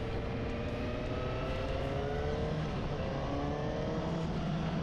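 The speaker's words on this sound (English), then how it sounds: "It's got a nice tone for a sports bike." A 2023 Suzuki GSX-S750 sports motorcycle engine running at steady speed, a continuous smooth drone with tonal harmonics, heard alone and fairly close.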